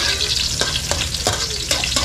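Garlic and onion sautéing in a pan, a dense close sizzle with regular spatula scrapes and taps against the metal.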